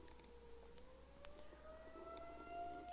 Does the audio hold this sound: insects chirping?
no